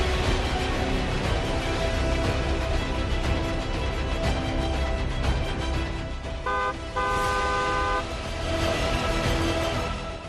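A vehicle horn sounds briefly twice in steady tones midway through, set against loud, continuous road traffic noise on a busy street.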